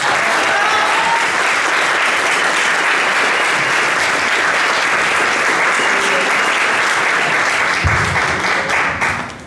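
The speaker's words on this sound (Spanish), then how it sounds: "pido un fuerte aplauso para nuestra querida doctora Marilena." A large audience claps steadily and loudly for about nine seconds at a product presentation event in Mexico City, with dense unbroken applause that thins out only in the final moment.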